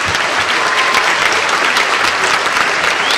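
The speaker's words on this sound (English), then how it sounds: "I want you to turn around and applaud all those folks back there, your mothers and fathers and friends and teachers" An audience at an awards ceremony gives loud, dense applause to the parents, friends and teachers seated behind them, a continuous clapping roar from start to finish.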